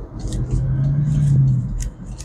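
Engine of a BMW 650i F12 coupe under way as it shifts into third gear, a steady low drone that rises slightly and then drops off near the end.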